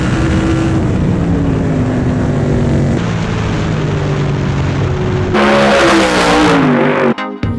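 Indy race car engine revving loudly at close range near the Indianapolis Motor Speedway, a sustained high-pitched whine that dips, then surges sharply before cutting off abruptly.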